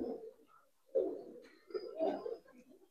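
Budapest high flyer giribaz pigeons cooing close by, three soft throaty coo phrases with short pauses between, quiet and alone.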